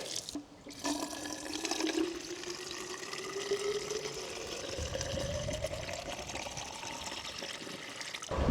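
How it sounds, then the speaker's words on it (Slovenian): Water gushes steadily from an outdoor tap at a water source on the Karst during a drought, a continuous close splashing stream whose pitch slowly rises as a container fills. "Upam, da bo pipa gor odprta oziroma delujoča."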